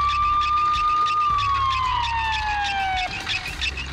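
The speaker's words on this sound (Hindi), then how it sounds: "हे एम्बुलेंस, जल्दी आओ।" An ambulance siren wails loud and close, one steady tone that slides downward, alone with no voices over it.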